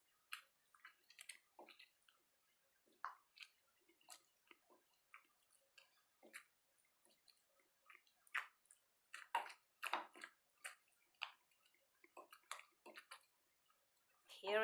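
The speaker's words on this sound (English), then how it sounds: "I have roughly pounded this chili and the tomato" Chili and tomato pounded roughly by hand for a Naga pork curry with axone and taro, giving irregular soft squishy thuds and knocks, moderately faint and close, with no talking.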